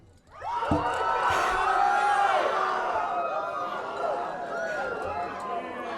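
Graduation audience at a 2016 engineering and design academy commencement bursts into loud screaming and cheering like riders on a roller coaster, with many voices sustained for several seconds.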